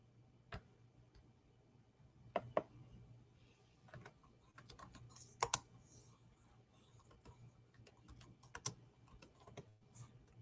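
Keys on a computer keyboard are tapped in quiet, irregular bursts of clicks, some louder clusters standing out against a faint steady hum, with no talking.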